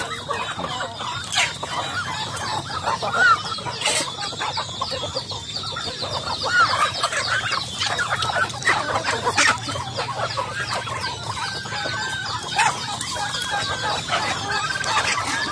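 Backyard chickens kept for eggs and meat cluck steadily while many chicks peep in a continuous, busy chorus, with an occasional rooster crow mixed in, all close by and without any talk.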